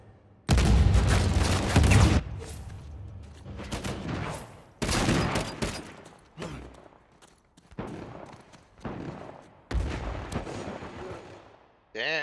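Gunfire in the video game Uncharted 4 comes in loud, repeated bursts of rapid shots and booms separated by brief lulls, with players talking over the action.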